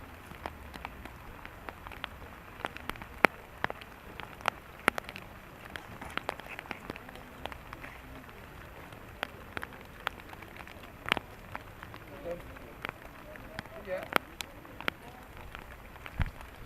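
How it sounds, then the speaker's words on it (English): Steady outdoor rain falls during a men's pairs semi-final at the Bowls Scotland National Championships, a soft continuous hiss broken by frequent sharp drips and taps on nearby surfaces. "that's just the rain, which is quite a steady downpour here"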